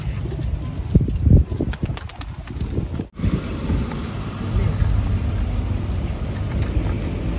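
A burst of flapping wings and cooing racing pigeons released into flight rises over gusting wind, then a sharp knock, followed by steady wind noise and soft rustling.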